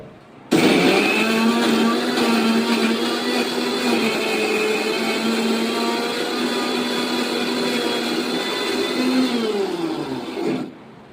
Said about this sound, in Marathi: ह्याला आपण आता मिक्सरमध्ये वाटणार. चालू कर मिक्सर.